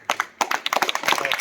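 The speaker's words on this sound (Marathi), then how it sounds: "टाळ्या पण जोरात वाजूया." Students in a school gathering clapping loudly for their teachers, a short burst of quick, uneven claps building after a brief pause, close and lively.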